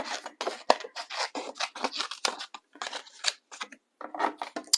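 Scissors snipping painted paper foliage shapes, a close series of quick crisp cuts in irregular bursts with short gaps between them.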